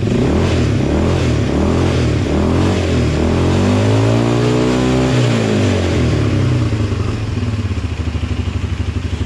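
A Shark 220 ATV engine idles with a low, throaty rumble, then revs up and settles back down, loud and close, with no voices.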